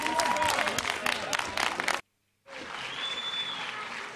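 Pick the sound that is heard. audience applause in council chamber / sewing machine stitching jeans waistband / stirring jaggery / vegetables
audience applause in council chamber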